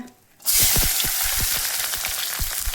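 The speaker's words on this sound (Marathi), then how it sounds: "आपलं मस्तपैकी तेल झालेलं आहे गरम आणि त्याच्यात टाकून घेणार आहे मी हिरवी मिरची लसण आणि कांदा" Green chili, garlic and onion hit hot oil in a pan, bursting into a loud, steady sizzle after a brief quiet start, with popping crackles running through the frying.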